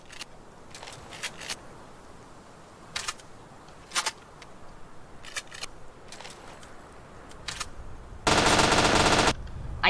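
LMG machine gun fire in a video game: scattered single shots and short bursts through the clip, then a long loud sustained burst near the end, with no talking over it.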